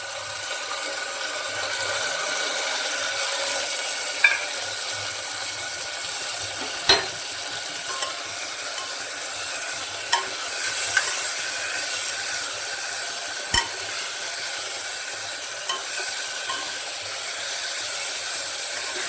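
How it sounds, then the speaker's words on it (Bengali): Ginger, garlic and chilli paste fries with onions in a pressure cooker for mutton curry, a steady sizzle running throughout with occasional sharp clicks and taps of a spoon stirring against the pot. "মশলার কাঁচা গন্ধটা যাওয়া পর্যন্ত ভালো করে কষিয়ে নেব।"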